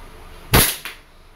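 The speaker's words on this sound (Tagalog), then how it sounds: "this is the Glock 34 Gen 4 G series by WE. Okay. Firing." A WE Glock 34 Gen 4 G-series airsoft pistol fires one sharp, loud crack up close, followed by a fainter echo or mechanical snap and a brief click.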